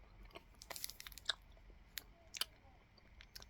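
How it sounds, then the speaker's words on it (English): Soft chewing on a vegan fudgy Swizzels Boo! Chews sweet, close and quiet, with irregular small moist crunches and clicks over about three seconds and no talking. "Whilst I'm chewing on this,"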